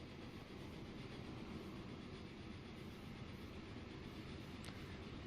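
Goods trains running in the railway simulation game Transport Fever, a steady faint rumble of rolling wagons that holds for several seconds without talk.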